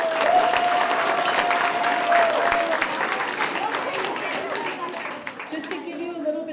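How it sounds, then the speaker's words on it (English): An audience at an eighth-grade capstone presentation day gives a round of applause, sustained clapping with a crowd murmur and a voice audible over it. "So if we can just give our friends from yesterday one more round of"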